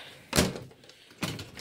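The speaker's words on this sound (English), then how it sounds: "Stupid door. Don't close correctly." A faulty door that won't close properly gives two dull thuds about a second apart, close by and moderately loud, with no voices.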